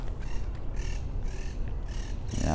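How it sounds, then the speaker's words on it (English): A flock of parakeets calls from bushes in a New Orleans garden, sending about four bursts of harsh squawks in quick succession over steady outdoor ambience at moderate distance. "Bunch of parakeets."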